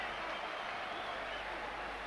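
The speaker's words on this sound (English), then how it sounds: "And what a reception from this Albert Hall crowd." A boxing crowd at the Royal Albert Hall gives a steady, dense roar of applause and cheering after a WBA middleweight title fight, unbroken throughout and heard from a distance.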